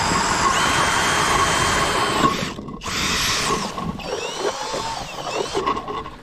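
A power drill whirs loudly and steadily, pausing briefly and then restarting, with grinding, scraping texture as it bores through ice.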